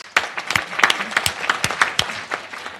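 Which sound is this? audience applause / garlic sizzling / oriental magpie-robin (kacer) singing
audience applause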